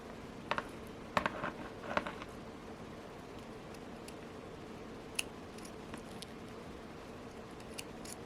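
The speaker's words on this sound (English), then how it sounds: "cut the thread" Scissors snipping beading thread while making a porcelain toggle-clasp bracelet, a few faint close clicks over a quiet background, no talking.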